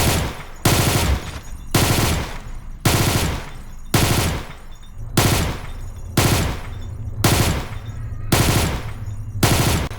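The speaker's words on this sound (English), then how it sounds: "It's best to use short bursts to get the most effectiveness from this gun at longer ranges." Short bursts of automatic gunfire in Garry's Mod, about ten evenly spaced loud volleys of rapid shots, each separated by a brief pause.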